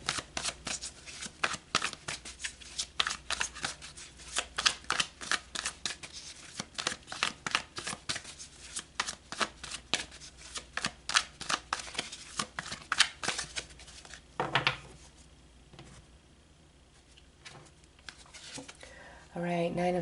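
Tarot cards are shuffled in a quick, rhythmic run of papery riffles and slaps for about fifteen seconds, close up. The shuffling then pauses and a voice briefly speaks near the end.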